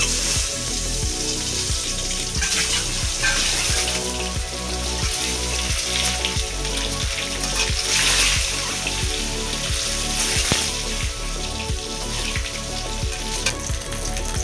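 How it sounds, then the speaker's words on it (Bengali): Eggs rubbed with salt and turmeric frying in hot oil, a steady, loud, dense sizzle and crackle throughout, close by, with faint rhythmic scraping or tapping underneath. "তেল গরম হয়ে গেছে, এবার ডিমগুলো ভেজে দেব।"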